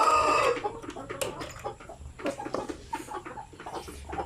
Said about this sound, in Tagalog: Dalawa yung aking rooster ng basilan.